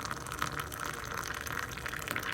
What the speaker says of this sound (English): Usually try to get a little violence in the pour.